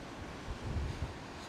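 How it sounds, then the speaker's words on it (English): Ocean waves rolling past a cruise ship at sea on a foggy day, heard as a steady rushing wash mixed with wind buffeting the microphone, with no voices. "Wow, look at those waves."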